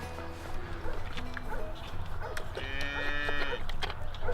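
Dairy cows mooing inside a barn, several drawn-out lowing calls overlapping one another against a busy background of livestock noise, with a few sharper yelps mixed in.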